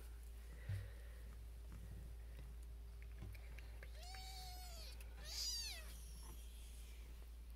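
Three-week-old Siamese kittens give two clear, high, rising-and-falling meows a second or so apart, close and soft over a low steady hum, with faint rustling between.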